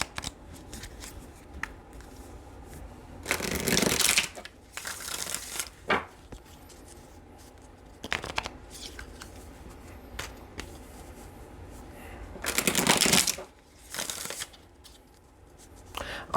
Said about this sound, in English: Let's pull some clarification cards.